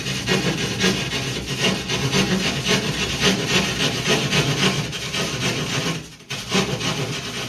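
A hand saw rasps back and forth through drywall in a steady, rough rhythm, pausing briefly before resuming.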